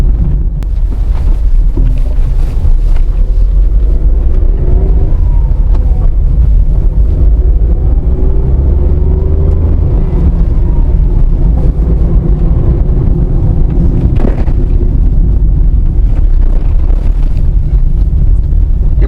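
A Tata Tiago hatchback drives at speed on a highway, its cabin filled with loud, steady wind roar and low road rumble, with engine tone rising and falling as gears change.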